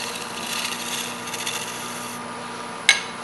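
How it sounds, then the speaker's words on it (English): A point tool held on a lathe cuts a small chamfer into PVC practice material, producing a steady close scraping rub with a low machine hum underneath, fading partway through and ending in a single sharp tick. "I'm going to take my point tool Again, put a little chamfer on there."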